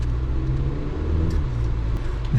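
A 2024 GMC Canyon AT4X truck climbs off-road in four-wheel drive, its engine a steady, close, low rumble that holds throughout with slight swells in effort and no talking.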